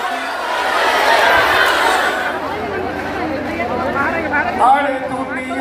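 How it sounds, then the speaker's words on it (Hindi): A large crowd chattering at the Bageshwar Dham Sarkar visit in Patna, a loud dense babble of many voices close around, with someone talking over the hubbub. "तगड़ी भीड़, एक नंबर की तगड़ी भीड़ न पीछे तक"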